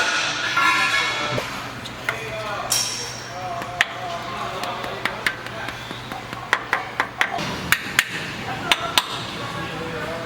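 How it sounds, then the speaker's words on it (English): Sharp hammer strikes ring out as a seal is hammered flush during a 2WD Toyota pickup clutch replacement, in an uneven series growing more frequent toward the end, after some early talking and clatter. "make sure there's no fucked up spots before you start hammering"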